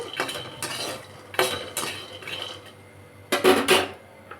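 Peanuts roast in a dry pan while a metal spoon stirs them, making a rattling, scraping clatter in several distinct bursts, loud and close, with no speech.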